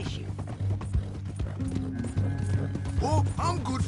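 A horse in Red Dead Redemption 2 with a rider tied up on it, rhythmic clip-clop hooves close by and a whinny near the end, heard under a man's ongoing speech.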